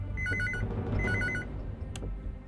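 An old-style telephone bell rings in two trilling bursts over low background hum, followed by a brief sharp click.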